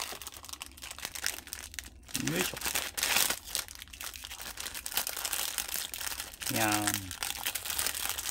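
A wooden pen tray starter kit holding maintenance oil and sandpaper is unpacked, its packaging crinkling and tearing up close in bursts, while a person talks briefly in between.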